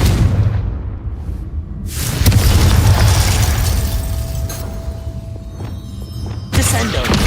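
A Confringo fire spell explodes in the Hogwarts Legacy video game, producing booming blasts and rumbling bursts amid ongoing combat effects, with a voice speaking over the noise.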